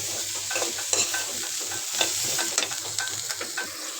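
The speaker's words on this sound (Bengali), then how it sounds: "মশলাটা কষাই নিয়েছি চাল ডাল কাঁচামরিচ দিয়ে দেবো ভালো করে কষাই নিব" Spice paste for khichuri frying and being stirred in a pan, a steady close sizzle broken by repeated scraping strokes of the spoon, with no talking.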